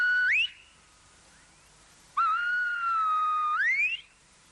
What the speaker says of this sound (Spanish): el lenguaje no es articulado, sino silbado